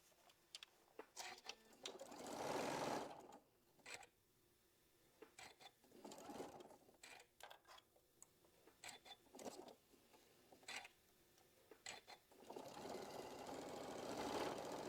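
A sewing machine stitches quilt block pieces in several short, irregular bursts of rapid whirring, separated by pauses filled with quiet handling of fabric; the sound is fairly faint and no voice is heard.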